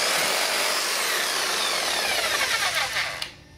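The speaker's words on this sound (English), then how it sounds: "We got your little sawzall here and we're just gonna have to do this." A small reciprocating saw cuts with a loud, steady buzzing rasp that runs close and continuous, then tapers off and stops abruptly near the end, with no talking.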